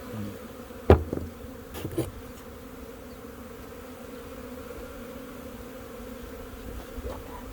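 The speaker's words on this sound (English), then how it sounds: "I have to walk through the storm of bees to do that" Honey bees swarm around a hive during an April beekeeping inspection, a steady low buzzing drone running throughout with a couple of brief louder knocks near the start.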